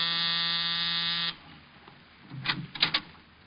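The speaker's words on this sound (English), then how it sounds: "I was punching the buzzer to Saxon's apartment" An apartment door buzzer pressed in a radio drama, a loud steady electric buzz held for over a second and then released, followed by faint footsteps and a few soft thumps.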